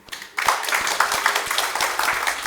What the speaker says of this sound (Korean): 4개 부문의 출연진들에게 다시 한번 큰 박수를 부탁합니다